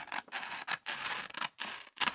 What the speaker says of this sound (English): just kind of pop your scissors in there, you can go right down that seam